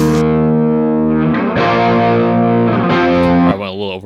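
Heavily distorted electric guitar chords through a Slash cabinet ring out with a long, washy reverb tail, sustained notes swelling then changing, loud and up front.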